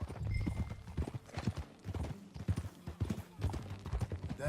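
A horse's hooves clip-clop at a steady walking rhythm while riding in Red Dead Redemption 2, close and fairly loud, with a brief snort or whinny and low game ambience underneath.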